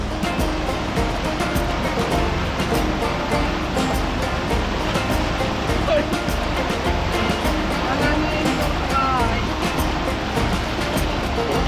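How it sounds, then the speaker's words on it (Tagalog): The strong current of the Tinipak River in Tanay, Rizal rushes loudly and steadily, a dense roar of flowing water with voices talking over it. "dahan-dahan, malakas yung agos."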